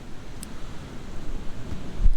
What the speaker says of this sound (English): It's really windy out here, so I don't know how well you can hear me.